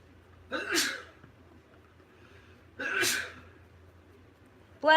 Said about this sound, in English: Did you hear him sneeze?